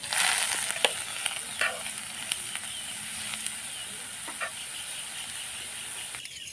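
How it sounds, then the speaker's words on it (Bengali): Small shrimp lightly frying in soybean oil with turmeric give a continuous soft sizzle and hiss, with a few faint scrapes and clicks from stirring and no one talking. "এখন এর মধ্যে চিংড়িগুলো আমি হালকা ভেজে নেব।"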